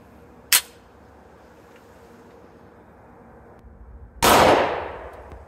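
A Smith & Wesson M&P 10mm pistol firing CCI Blazer rounds at a range, with two sharp, loud reports well apart: one near the start and a heavier one near the end that rings out afterward.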